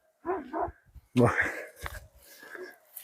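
A large Aksaray Malaklı dog gives a few deep, short barks nearby, interleaved with quieter breathy sounds and a soft human voice.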